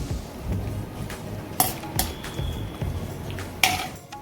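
Grated coconut frying in a pan on medium heat while making thin poha chivda, a soft sizzle under repeated sharp clinks and scrapes of a metal spatula against the pan.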